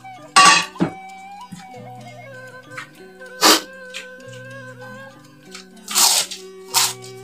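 Close crunchy bites and chewing of spicy eel, several sharp crisp crunches spaced out over quiet background music.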